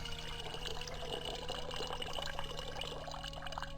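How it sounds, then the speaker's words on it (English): Watery splashing from the Create Water spell in the video game Ravenloft: Stone Prophet, a steady, soft pouring wash with small drips that carries on evenly throughout with no talking. "Create water."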